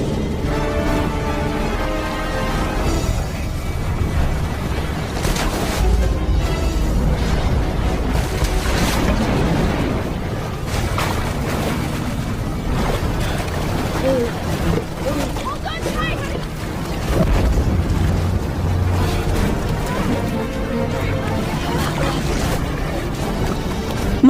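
A large luxury cruise ship capsizes and sinks in a disaster film: deep, loud roaring rumble and sloshing water run continuously under steady narration.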